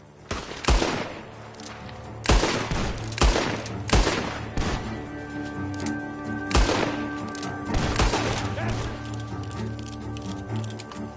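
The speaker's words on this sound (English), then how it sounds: "The gunshots are coming from that barn." Gunfire rings out from a barn in the Red Dead Redemption video game: a series of loud, sharp shots in irregular bursts, some close together, with echoing tails over a low ambient background.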